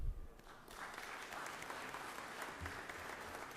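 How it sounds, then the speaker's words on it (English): Applause in the Georgia Senate chamber honoring the executive directors of CTSOs in Georgia, a dense, even clapping from many hands heard at moderate distance, steady throughout without talk. "So if we can give them a round of applause"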